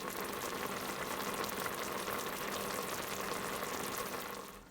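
Butter beans boiling in a pot, a steady bubbling and simmering that stays even and close for several seconds, then fades slightly at the end.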